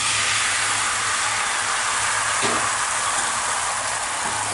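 Beaten egg mixture for egg kalakki poured into a hot pan, giving a loud, steady broadband sizzle and hiss that holds evenly throughout, with no voices.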